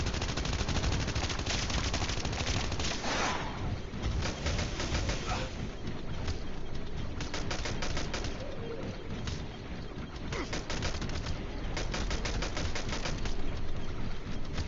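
Gunfire in the zombie survival mode of the mobile game COD Mobile, dense bursts of automatic shots over constant loud game noise, with bird-like cooing sounds mixed in.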